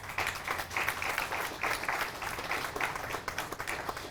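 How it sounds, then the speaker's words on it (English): Audience at a police department memorial service applauds officers with steady, fairly soft clapping from a crowd, continuous throughout without speech. "Give them a round of applause"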